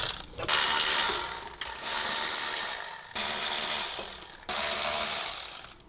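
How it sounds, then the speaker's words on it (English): Hand ratchet spinning off the rear axle bolts on a third-generation Toyota 4Runner during an axle rebuild, three long bursts of rapid ratcheting clicks separated by short pauses, close and loud with no talking. "I'm going to use my ratchet to take it the rest of the way off."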